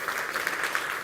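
Conference attendees at a software summit clap together, a brief continuous patter of many hands at even, moderate level and no talking on top.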